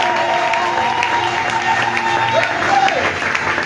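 A church congregation applauds and cheers in praise, a dense wash of clapping and voices filling the room steadily for several seconds.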